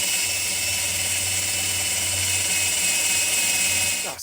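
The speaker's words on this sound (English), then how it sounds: "Now it's time to drill a hole on the other side." A power drill bores a hole for a curtain rod mount, a steady, close whine held for about four seconds before it winds down at the end.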